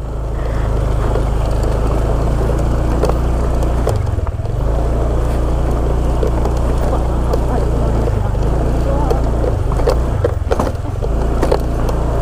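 A motorcycle engine rumbles steadily while riding over a rough road, with wind noise and occasional bumps and jolts breaking the continuous drone.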